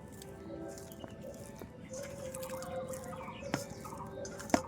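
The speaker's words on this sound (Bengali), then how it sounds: "আলুটা ভালোভাবে মাখিয়ে নেব হাত দিয়ে।" Boiled sweet potato being mashed by hand into a soft dough for sweet potato jilipi, giving faint wet squishes and a few soft squelches over a steady background hum and room noise.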